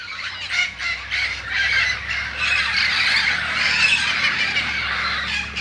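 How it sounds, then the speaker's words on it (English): Wild parrots chattering and calling outdoors in Yucaipa in a continuous, busy chorus, fairly loud and close, with no talking. "And you can hear the birds."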